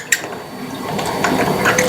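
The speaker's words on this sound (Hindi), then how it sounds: "देखिए अभी पानी आना बराबर हो गया।" Water running from an old kitchen tap after low pressure: a steady, close rush of flowing water that builds slightly over two seconds.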